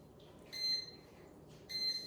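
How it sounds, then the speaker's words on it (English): A Cuisinart bread machine signals that baking is finished with two short, soft electronic beeps about a second apart, heard alone against a quiet room. "This machine is gonna beep at me, and it's got 1 minute left."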